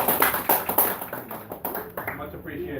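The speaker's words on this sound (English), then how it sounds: "Let's get a round of applause for Kieran and his" Scattered audience clapping at a club awards presentation, a few distinct claps close by with talk running underneath, thinning out toward the end.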